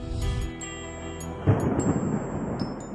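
A dramatic thunderstorm over the construction site of the Millau Viaduct bridge: a sustained tonal drone gives way to a loud crack and a broad, rushing roar of storm noise, like thunder with heavy rain.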